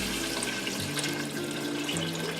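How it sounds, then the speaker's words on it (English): Water pours steadily from a jug into a pot of vegetable soup, a continuous close splashing and gurgling rush with a low humming tone underneath. "So now we're going to be adding in 1 jug of water."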